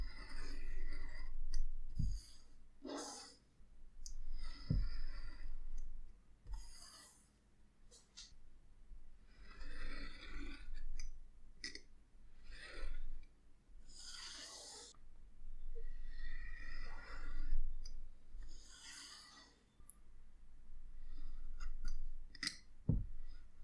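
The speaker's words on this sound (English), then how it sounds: "Make sure that you don't damage your blade while you're cutting." A craft blade slicing a leather cardholder pattern on a self-healing cutting mat, with scattered short scrapes and clicks, quiet and close, separated by pauses and soft handling noise.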